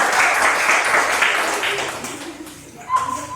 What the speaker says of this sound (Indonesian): Berikan tepuk tangan buat kelompok satu